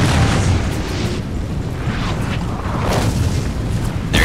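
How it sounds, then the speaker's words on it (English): Howitzer artillery firing in the Napoleon: Total War video game, a loud sustained rumble of booms and blasts with a sharp burst near the end, dense and continuous with no voices. "my howitzers are going to continually fire on his men"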